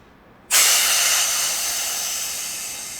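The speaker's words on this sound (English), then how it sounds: "The O-ring have not got enough grease, and the CO2 leaked from the front" CO2 gas bursts from the front O-ring of a Tiberius T8.1 air pistol, a sudden loud hiss that starts abruptly and holds steady, fading only slightly over a few seconds with nothing else heard.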